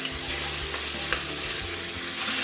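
Sliced garlic sizzles in hot oil in a pan, a steady crackling fry, moderately faint and continuous, with light stirring clicks.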